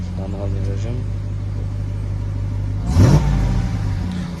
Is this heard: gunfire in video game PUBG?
no